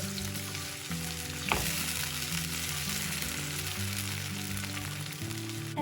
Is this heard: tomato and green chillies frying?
yes